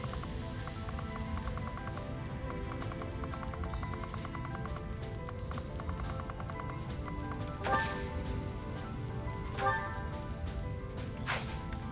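Horses' hooves clip-clop softly in Fire Emblem: Three Houses during a battle, a quiet rhythmic trot under the game's music, with a couple of sharper impacts standing out.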